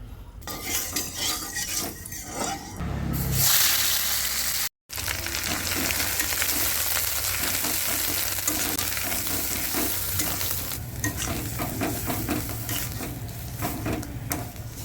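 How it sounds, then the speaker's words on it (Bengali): Mustard oil being stirred in a wok over low heat: a continuous sizzle with scraping and clattering of a spatula against the metal pan, a thud and a short silent break early on, then steady frying noise. "এবার কড়াইতে দিয়ে দেবো সর্ষের তেল, আর অল্প আঁচে আস্তে আস্তে নাড়তে থাকবো।"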